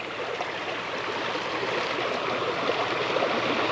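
Fast-running tropical river water rushes steadily, a dense, even wash of flowing noise that stays constant and close throughout, with no voices.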